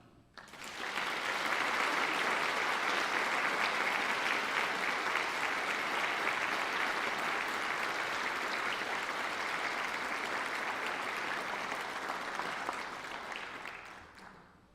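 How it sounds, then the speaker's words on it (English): Sustained applause from a sizable audience swells quickly, holds at a full steady roar of clapping for over ten seconds, then fades out. "Please help me give him one more round of applause"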